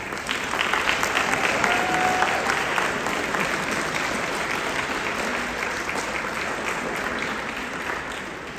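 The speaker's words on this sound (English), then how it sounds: "give a big round of applause for all those amazing" An audience at an honor band festival concert applauds the musicians on stage, a full, steady wash of clapping that holds strong for several seconds and then slowly eases.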